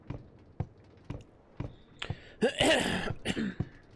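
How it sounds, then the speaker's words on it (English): Several harsh coughs burst close to the microphone, preceded by a series of soft taps at a steady pace. "I apologize for coughing into the mic."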